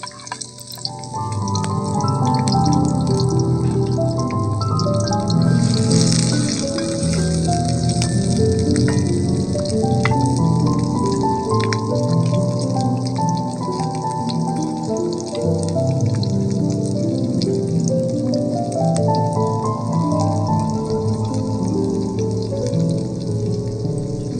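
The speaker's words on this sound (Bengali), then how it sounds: "এখন এর মধ্যে দিয়ে দিব সয়াবিন তেল। তেল গরম হয়ে যাওয়ার পরে এর মধ্যে দিব রসুন কুচি, পেঁয়াজ কুচি, কাঁচামরিচ ফালি" Chopped garlic, sliced onion and green chili with salt fry hard in hot soybean oil, making a loud, continuous sizzle with crackling pops and occasional stirring, with no talking.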